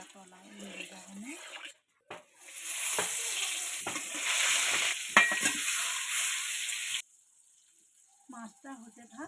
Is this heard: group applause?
no